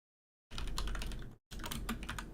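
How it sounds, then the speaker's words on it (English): Rapid computer keyboard typing right beside the microphone, a loud dense clatter of keystrokes in two bursts separated by a brief pause. "I apologize for the keyboard sound"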